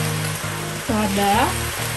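Noodles with sauce and pepper stir-fried in a pan, a close, steady sizzle with stirring and scraping sounds over a brief two seconds.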